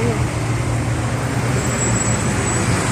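Road traffic crawls in a jam as people evacuate, a steady low rumble of idling and slow-moving cars, buses and trucks that stays loud and unbroken.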